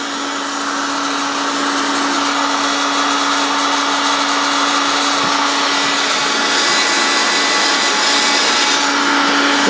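A heat gun warming a plastic gutter downspout blows a loud, constant whooshing whir with a steady tonal hum, unbroken for the whole stretch and with no talk.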